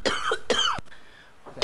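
An older man coughs twice in quick harsh bursts, then pauses before a third cough begins, close and clear with nothing else around.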